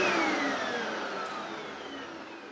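Hoover WindTunnel 2 HC Pet upright vacuum cleaner running on carpet during a baking soda cleaning test, a loud, steady whooshing motor roar that eases slightly over a few seconds.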